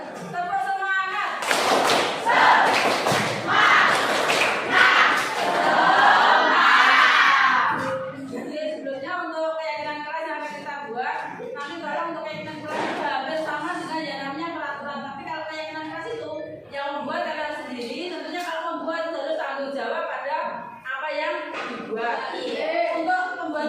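A classroom group does a rhythmic spirit clap (tepuk semangat): quick bursts of patterned clapping and thumps mixed with chanting voices for several seconds, then the clapping stops and a teacher talks steadily over a quieter room.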